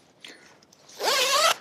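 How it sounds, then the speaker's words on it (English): The two-way zipper on an Outdoor Vitals Summit 20 lightweight sleeping bag gives a faint tug and rattle, then one loud, close, rasping zip lasting about half a second, with no talking. "Features a two-way zipper, so you can open the bottom for ventilation."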